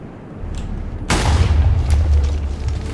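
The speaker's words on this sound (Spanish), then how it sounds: "Oye, ¿quién está poniendo TNT?" A TNT block blows up in Minecraft: a sudden, loud booming blast followed by a rolling rumble, with a second, smaller burst shortly after.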